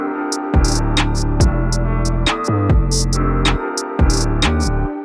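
A full UK drill beat with melody and drums: sliding booming 808 bass, crisp hi-hats and snare hits, and a tonal melody looping at steady tempo, loud and alone.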